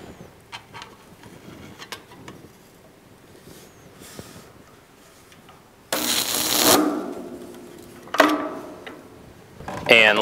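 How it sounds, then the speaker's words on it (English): Spot welder joining a folded sheet metal parts tray: quiet shop ambience gives way to a loud, sizzling buzz lasting about a second, then two more short, sharp welding bursts near the end. "our last process is to spot weld each of our locations identified as number 4"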